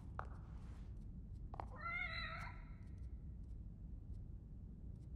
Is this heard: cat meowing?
yes